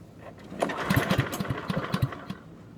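A lawn mower with auto choke is pull-started, its engine giving rapid uneven chugging bursts that sputter and nearly catch without fully running, close and fairly loud.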